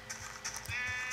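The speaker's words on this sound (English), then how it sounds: "Watch out, sheep." Blocky Minecraft sheep bleat in a game world, a short wavering cry that swells and holds near and clear over faint in-game ambience, with no talk.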